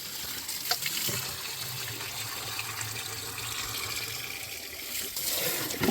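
Coolant streams out of the radiator of a 1991 Dodge Caravan abandoned for over 19 years, a steady close splashing gush of liquid with no talking over it.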